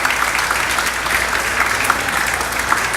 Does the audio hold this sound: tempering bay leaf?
no